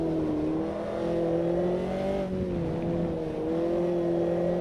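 F-Inter race car in Automobilista 2 accelerating hard, a loud steady engine drone with rising and dipping pitch as the throttle is worked, close and continuous with no talk.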